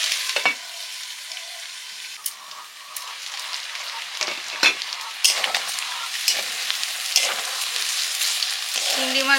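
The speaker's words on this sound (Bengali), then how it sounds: "চিংড়ি মাছ আর কচু একসঙ্গে কষে নিয়েছি" Prawns and taro pieces sizzle and spit steadily in a hot pan while being stirred, with crackling bursts and occasional scraping clinks of a spatula, loud and close.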